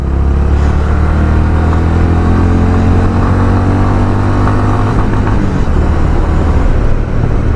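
A Honda H'ness CB 350 motorcycle engine revs hard to its limiter, holding a loud, steady, close drone that sags briefly before holding again.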